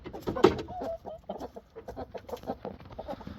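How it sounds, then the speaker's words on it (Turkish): Chickens cluck in a steady run of short, close notes, with one louder squawk near the start. "Bir tane de dışarıda tavuk var arkadaşlar."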